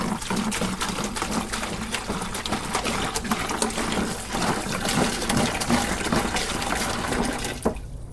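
Distilled water being poured into a clean 5-gallon Home Depot bucket, a continuous splashing, gurgling fill with a steady liquid rush close to the microphone, tapering off at the very end.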